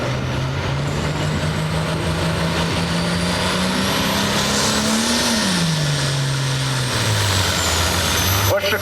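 A John Deere farm tractor pulls a roller at a Boonsboro tractor pull, its loud, steady engine drone climbing slowly, then dropping in pitch toward the end under a continuous roar.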